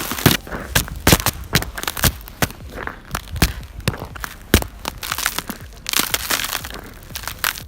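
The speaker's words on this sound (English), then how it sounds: "Crisp crunch under those boots hits the spot perfectly." Boots crunching and crackling over crisp, crusty snow in a fast irregular stream of close, loud steps with sharp breaking snaps, no talking.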